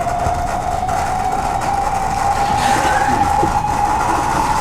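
A computer-generated sonification of the Julia programming language's package ecosystem history: a steady droning tone held under a hissy, rumbling wash, continuous and fairly loud throughout, with no voices.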